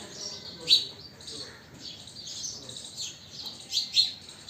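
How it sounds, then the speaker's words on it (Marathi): Sparrows at a sparrow shelter in a rural village, faint high chirps and tweets scattered across the clip over a quiet outdoor background, a few brief calls standing out. "समोर पण आपल्याला काही चिमण्या आता या ठिकाणी दिसू लागल्या आहेत हे पहा"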